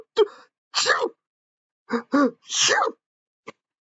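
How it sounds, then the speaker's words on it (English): Cartoon bear with a cold letting out a string of sneezes and wheezy gasps, short bursts separated by pauses and ending on a tiny sniff. "Sneezed"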